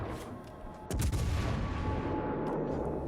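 A heavy cruiser firing high-explosive shells in World of Warships: Legends, a deep booming naval gun salvo that erupts suddenly and rolls out into a long rumbling decay.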